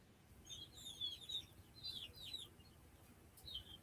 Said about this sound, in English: all of a sudden I could hear the birds